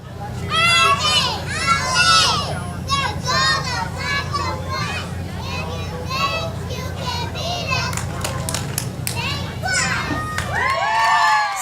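A crowd cheers for a young girls' cheerleading performance, with loud, continuous excited shouts and squeals from children and adults blending together throughout, and voices calling out over the din.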